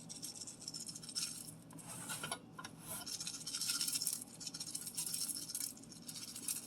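Soft, continuous rustling and hissing as dry onion soup mix is sprinkled over a raw turkey, close and steady with slight swells, no voices.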